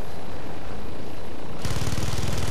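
Helicopter engine and rotor noise from the MD530 Little Bird in the video game Battlefield Play4Free, a steady broadband whir that swells louder partway through with a low, rapid rotor chop.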